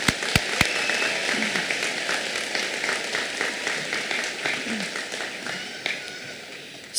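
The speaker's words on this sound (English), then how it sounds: "Please give all these students a round of applause." Fairly faint clapping from an audience rises for students at a 2024 high school graduation ceremony, a steady patter spread through the hall with no voices over it.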